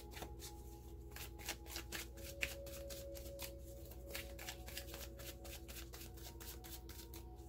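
Wild Kuan Yin oracle cards being shuffled by hand in a quiet room, a steady stream of soft papery riffling clicks that continues evenly throughout, with no voices.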